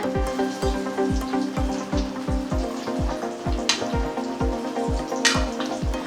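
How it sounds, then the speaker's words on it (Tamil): Fish curry of seer fish bubbling in a pot on the stove, steady popping bubbles with a wet sizzle, fairly loud and close, no talking. "நல்லா கொதிச்சு வந்துட்டுருக்கு."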